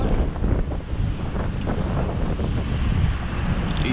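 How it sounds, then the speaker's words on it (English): Strong, gusty wind blowing outdoors among tall buildings in rainy Miami. It makes a steady, loud, close rumble that buffets the microphone throughout, with no talking. "Wind blowing like crazy."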